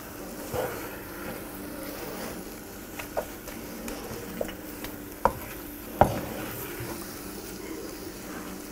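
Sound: stirring öksüz helvası cooking in butter in a pan

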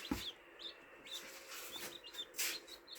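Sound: small chicks of Cochin hen

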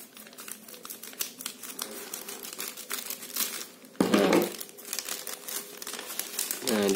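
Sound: unboxing a parcel, crinkling packaging

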